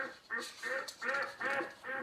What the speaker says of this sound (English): I hear a duck. Do you hear a duck? There's a duck in my room.